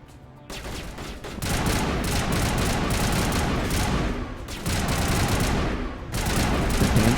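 Heavy, sustained bursts of gunfire from a firefight in the Mass Effect video game, played on veteran difficulty, loud and dense with brief dips between volleys.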